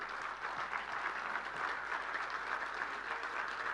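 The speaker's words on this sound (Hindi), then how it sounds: "जोर से बजाइए ताली" A crowd at a political speech claps in a continuous, even wash of applause, heard at a distance and fairly soft, with no speech over it.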